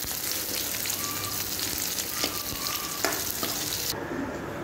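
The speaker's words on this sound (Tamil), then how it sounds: "நல்லெண்ணெய் ஊற்றி நம்ம வறுக்கிறோம்." Garlic fries in sesame oil with a dense, continuous crackling sizzle, close and fairly loud, broken by a few light stirring clinks and no speech.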